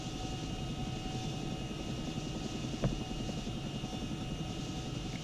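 A Chinook helicopter flies in the video game ArmA, its rotors and engines a constant dense drone, with one brief thump partway through.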